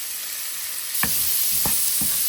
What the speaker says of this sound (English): So when my onion is done sauteing